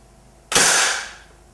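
A Beeman Heavy Target break barrel air rifle fires once, a single sharp, loud crack that decays over about half a second, close up with no talk.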